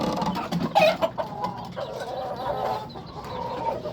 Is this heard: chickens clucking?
yes